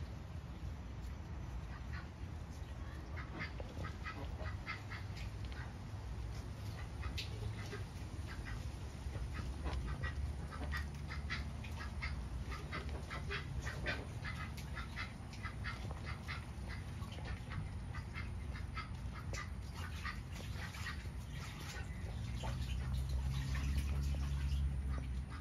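Muscovy ducks and ducklings make soft, scattered quacks and peeping calls close by, repeated irregularly over a steady outdoor background hum.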